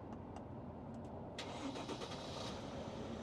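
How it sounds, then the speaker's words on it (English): A 2019-or-newer Sprinter van engine cranks briefly and catches after an intercooler hose repair, then settles into a steady idle rumble, fairly close and continuous with no voices. "All right, Kathy, let's fire it up and see if everything sounds okay"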